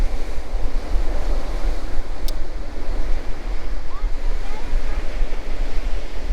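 Surf waves breaking on an East Coast UK sea beach at Spurn Road, a continuous loud rushing wash mixed with gusty wind buffeting the microphone.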